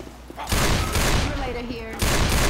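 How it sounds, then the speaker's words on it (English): Incendiary fire bullets ripping from a weapon in Left 4 Dead 2, a dense fusillade of loud close shots in two bursts with a short gap between, under game voices and chatter. "I'm deploying some fire bullets"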